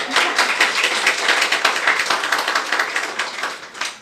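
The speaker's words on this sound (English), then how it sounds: "I think you should celebrate yourself with a big round of applause" Audience applause at a panel event on climate, conflict and gender, a brisk and fairly close round of clapping with distinct individual claps that stays lively before easing slightly at the end.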